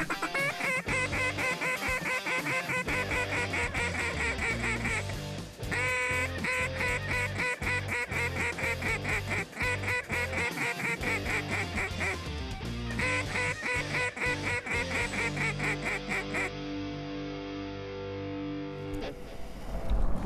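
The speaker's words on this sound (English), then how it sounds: "Where'd that duck come in from behind?" Loud, repeated duck quacking and goose-like honks throughout a Missouri waterfowl hunt, with dense rhythmic calls that sound like duck calls blown close by, nearly continuous with a short pause midway.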